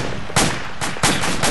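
Gunfire in the Arma military game with the ACE mod: three or four loud, close bursts of shots crack out in quick succession over steady background noise, with no talking.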